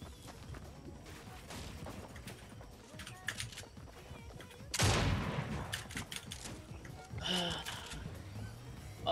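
SMG gunfire from a video game bursts out as a rapid, dense volley midway, with fainter shots and clicky taps before and after, mixed with game ambience and low talk.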